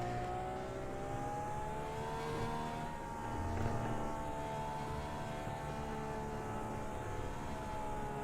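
An IndyCar race car engine in iRacing held at quarter throttle, a steady, moderately loud droning whine with slowly shifting pitch and no sharp revving.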